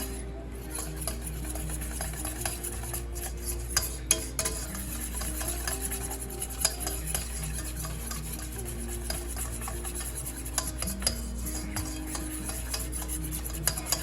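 A whisk stirs banana bread brownie batter in a bowl to work out clumps, a continuous close scraping and tapping that runs steadily throughout without speech.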